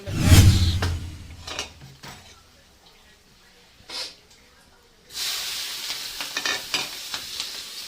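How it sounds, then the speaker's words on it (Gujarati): Hot oil sizzles and crackles as a tempering (vaghar) is made for batata vada, bursts of loud frying hiss coming in waves with brief stirring in between. "કરી રહ્યા છે હવે વઘાર"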